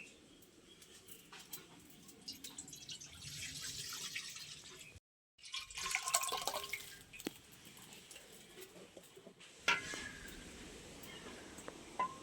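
About 1.5 litres of milk poured into a kadai wok for homemade kulfi, a steady liquid splash and gurgle with a brief break midway before pouring resumes, alongside a few light clinks.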